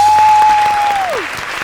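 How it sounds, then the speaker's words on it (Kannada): Studio audience applause on a televised singing competition, loud, dense clapping that slowly fades, with a steady tone sounding briefly over it before dropping away. "ಇರು ಇಷ್ಟಕ್ಕೆ ಮುಗಿಸ್ಬೇಡ, ಇನ್ನೂ ಸಾಕಷ್ಟು ಚಪ್ಪಾಳೆಗಳು ಕೊಡೋದಿದೆ"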